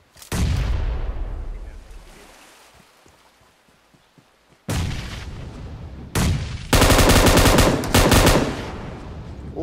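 Shooter video game gunfire arrives in several loud blasts: a heavy shot that fades away, then sharp single shots and a dense, rapid automatic burst near the end.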